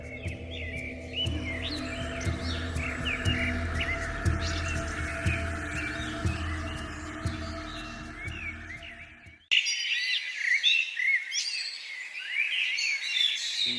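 Bird chirping in a forest, with bright repeated tweets over a low steady hum that cuts out partway, leaving clearer, closer chirps alone at the end.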